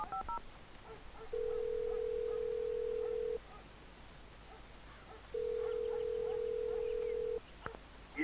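Telephone tones from a redial button sound twice as long, steady beeps separated by a quiet gap, with faint background noise and brief clicks around them.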